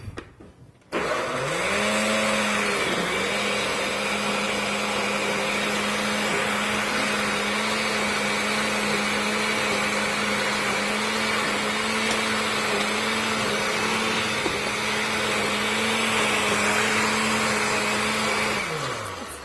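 A blender whizzes chopped tomatoes with chilies and spices for a cheese sauce, starting abruptly and holding a steady loud whirring motor drone for nearly twenty seconds with no talk.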